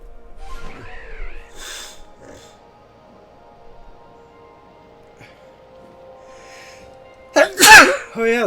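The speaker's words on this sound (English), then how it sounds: "So serious of a matter, I want to sneeze." A single loud sneeze bursts out near the end, close and sharp, after a stretch of quiet game audio with faint tones and soft speech.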